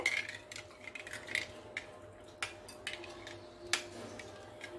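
A metal spoon stirring orange juice and sugar: faint, sparse clinks and ticks against the container, quiet and close, over a low steady hum.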